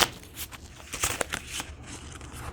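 Tarot cards being shuffled by hand, a soft riffling and flicking of card stock in short bursts, close and quiet with no voices.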